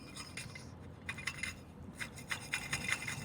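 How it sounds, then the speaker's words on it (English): A rhythmic rasping scrape from a failing water pump on a 2018 Chevrolet Malibu repeats in quick strokes, metallic and gritty, close by and fairly faint against a low mechanical hum. "This probably why it's making that noise too, like little scraping noise."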